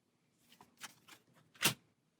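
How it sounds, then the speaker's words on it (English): A deck of level 3 cards for the Aeons End board game is shuffled by hand: a few soft riffling bursts build to one sharper, louder snap near the end, close and otherwise quiet. "Give these a shuffle"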